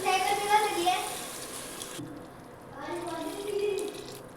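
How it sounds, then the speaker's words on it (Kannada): Water is poured into a pot of boiling mushroom pulao masala in a home kitchen, giving two bursts of splashing flow separated by a short pause, with voices talking underneath. "ನೀರು ಸೇರಿಸ್ಕೊಳ್ತಾ ಇದ್ದೀನಿ"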